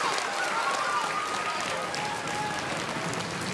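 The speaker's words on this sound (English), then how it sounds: "Give them a round of applause." An audience at a school concert applauds performing arts captains, a thick continuous roar of clapping that holds steady and loud throughout, with faint voices mixed in.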